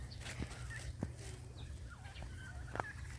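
A flock of white turkeys on a farm clucking and gobbling softly in the background, scattered short calls over a low steady rumble outdoors.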